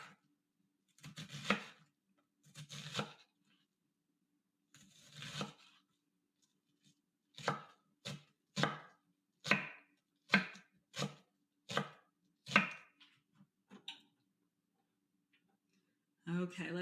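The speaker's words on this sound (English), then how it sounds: "Now I'm just going to go slowly" A knife chops bell pepper on a chopping board in slow, evenly spaced strokes, about a dozen close crisp cuts, with gaps of quiet and some speech between.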